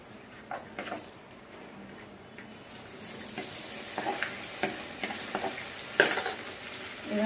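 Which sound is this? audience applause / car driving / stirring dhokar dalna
stirring dhokar dalna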